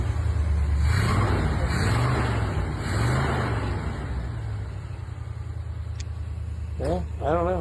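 Chevelle with a 427 engine idling, heard from the tailpipe, a low steady burble with people talking briefly near the end.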